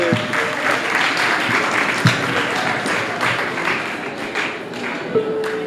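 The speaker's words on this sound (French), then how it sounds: "on va les applaudir" Audience at a provincial youth quiz contest applauding, a sustained, fairly loud patter of many hands with occasional sharper claps and thumps and faint voices underneath.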